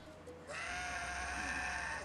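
A goat in the Goat Simulator video game lets out one long, loud, drawn-out bleat that begins after a brief pause and carries through to the end.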